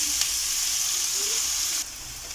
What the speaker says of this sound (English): Saute your onions until it is translucent.